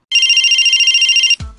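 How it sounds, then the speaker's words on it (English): A cell phone rings with a loud, steady electronic trill lasting just over a second, pulsing rapidly, then cuts off abruptly into a low thump. "Did you hear the bell signifying it's time to wrap the show? Actually, it was the cell phone."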